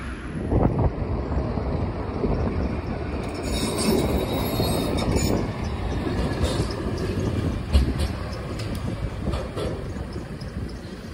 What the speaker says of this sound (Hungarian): Itt láthattátok áttérni a villamosokat a Bihari utca egyik oldaláról a másikra